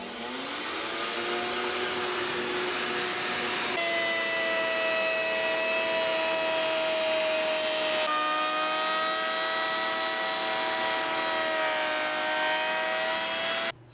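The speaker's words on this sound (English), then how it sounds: "I've been sanding these in on the spindle sander the last few times I've done this." A spindle sander runs continuously with a steady high-pitched whine while sanding a guitar headstock to a template, its tone shifting slightly as the wood is pressed against the drum.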